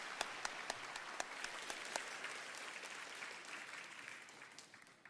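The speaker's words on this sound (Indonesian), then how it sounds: "Bapak Pratik dong, tepuk tangan dong Bapak Pratik dong." Audience at a party anniversary event clapping: a sparse, distant patter of scattered claps that slowly thins and fades.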